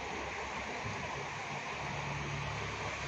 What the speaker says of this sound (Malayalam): നല്ല മഴ പെയ്തുകൊണ്ടിരിക്കുന്നു ഫ്രണ്ട്സ്.